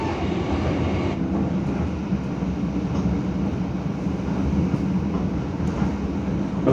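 Inside the Jaka Tingkir passenger train under way, a continuous low rumble of wheels and carriage with steady rattling, a dense, even drone lasting throughout with no talk.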